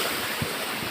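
Ocean waves surge into a blue lagoon at Cabatuan, Northern Samar, making a continuous broad roar of surf mixed with wind buffeting the microphone, steady and fairly loud with no talking.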